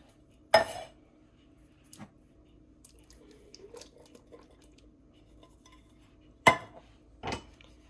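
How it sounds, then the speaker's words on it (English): A few sharp clinks of a utensil against a crockpot, spaced apart, with soft wet squelching of chili ingredients and undrained beans being stirred between them. "Then we're just going to stir everything together"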